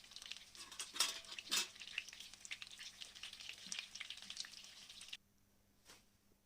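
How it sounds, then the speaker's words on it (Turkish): Meatless vegetarian köfte frying in leftover oil in a pan, a steady soft sizzle and crackle with a few louder pops and stirring clinks, then a sudden drop to near quiet. "Kalan yağın içine diğer köftelerimi koyuyorum ve aynı şekilde onları da pişiriyorum."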